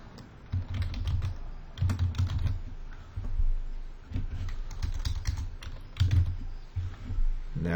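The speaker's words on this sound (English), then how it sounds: "Type the project name." Rapid clusters of keystrokes on a computer keyboard, close and steady, with bursts of typing separated by brief pauses and no voices.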